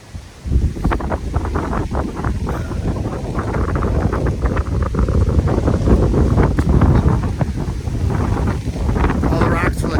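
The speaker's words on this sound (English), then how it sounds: "Super duper windy." Strong wind on the Appalachian Trail roars and buffets the microphone continuously, a loud rumbling gust that barely lets up.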